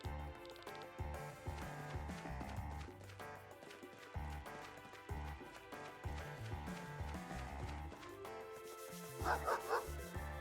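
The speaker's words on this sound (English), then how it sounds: "This dog is angry." An angry dog barks in the video game Chained Echoes, several yapping barks rising near the end over continuous in-game music, with no talking.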